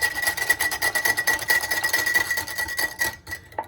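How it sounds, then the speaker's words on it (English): A whisk froths a cup of vegan hot chocolate in quick, rhythmic clicking strokes, close and fairly soft, running steadily before trailing off. "The whisk gives it a frothy texture"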